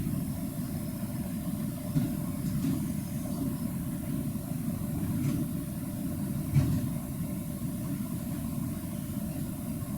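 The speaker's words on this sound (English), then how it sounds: "It's not a bus, it's a garbage truck. It's gonna get noisy around here." A garbage truck engine idles nearby, a steady low rumble that holds for the whole stretch with no voices, a few faint knocks and clanks surfacing briefly over the drone.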